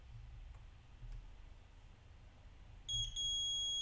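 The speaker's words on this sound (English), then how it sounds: "if I measure continuity from one end of the purple wire to the other, and I get the beep" A multimeter continuity tester on a blue wire sounds a clear high electronic beep that starts late and holds steadily to the end, preceded by faint low handling rumble.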